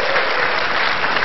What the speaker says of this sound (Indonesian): kita tepuk tangan untuk ronde pertama